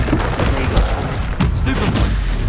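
A Flipendo spell is cast in the Hogwarts Legacy video game, giving a series of heavy booming thumps and blasts in quick succession over a dense game soundscape.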